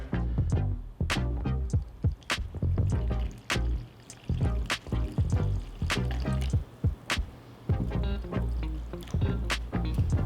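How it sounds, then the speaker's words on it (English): Lukewarm water is poured for a bread yeast starter, coming as a series of close splashing, trickling bursts with short pauses between them over about ten seconds. "we will take some lukewarm water, just regular water, also 100 milliliter or 100 gram."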